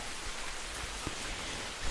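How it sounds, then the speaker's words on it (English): Rain falls outside on a porch in the morning, a steady, even hiss of drops with a few soft taps, moderately quiet and continuous with no talking. "But I think this is meant to be a rain sounds video."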